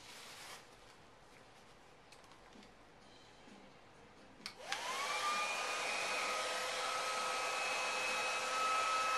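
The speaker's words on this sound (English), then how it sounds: "So anyway, I'm going to get under my dryer." A hooded hair dryer switches on high after a few seconds of quiet handling clicks, then blows with a loud, steady, close airy roar and a faint whine to the end.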